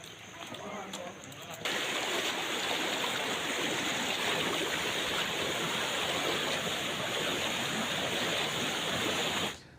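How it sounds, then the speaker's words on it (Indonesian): Floodwater from the overflowing Babura River beside the North Sumatra governor's residence rushes in a dense, steady roar that swells abruptly after a quieter opening and holds loud and unbroken almost to the end. "Banjir terjadi akibat meluapnya Sungai Babura yang berada tepat di sisi rumah dinas Gubernur Sumatera Utara."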